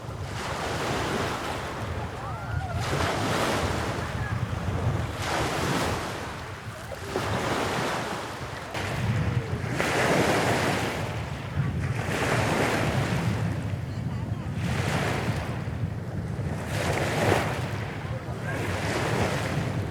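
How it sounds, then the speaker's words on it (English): Waves wash onto a small palm-lined beach near Kunming, Yunnan, in a steady surging roar that swells and recedes every couple of seconds, mixed with wind buffeting the microphone. "there is a small beach with palm trees, which attracts many tourists"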